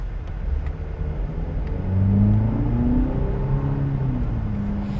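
The 2-liter engine of a 2020 Cadillac CT4 compact sedan rumbles and revs from inside the car, with rising and falling engine tones at moderate volume and no talk over it.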